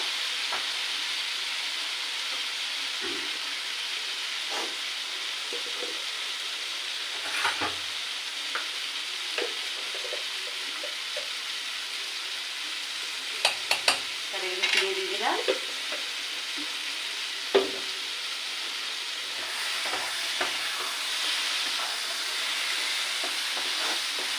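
Ridge gourd, potato and prawn curry being stirred and sautéed in a pan, a steady soft sizzle with occasional scraping clinks of a spatula, fairly close and alone.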